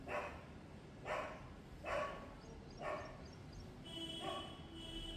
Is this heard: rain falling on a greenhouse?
no